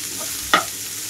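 Chopped cabbage fries in a pan for a cabbage prawns fry, making a steady close sizzle with a single sharp clink of a utensil partway through.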